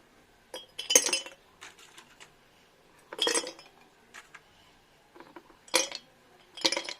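Ice cubes dropped into a glass while making homemade rose milk, several bright clinks in four separate bursts with short pauses between, close and fairly loud, no talking.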